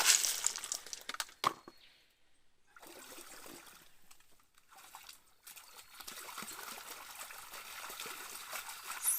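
Water sloshing and trickling as gravel is washed in a gold pan, with faint dribbles and splashes coming and going, a quiet lull partway through, then steady close washing noise.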